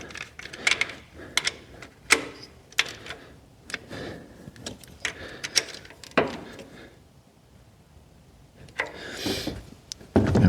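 Nuts and bolts being tightened on a Toyota MR2 Roadster Mk3 1ZZ engine: a quick series of close, sharp metallic clicks and ratcheting ticks, irregular in rhythm, with brief pauses and some tool shuffling.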